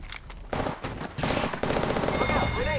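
Rapid bursts of automatic gunfire from a video game shooter, loud and sustained, with repeated shots layered over game effects and occasional voice callouts.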